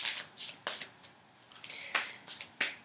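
A deck of oracle cards is shuffled by hand in a quiet room, with about eight crisp riffling bursts in an uneven rhythm, close and fairly soft, separated by brief pauses.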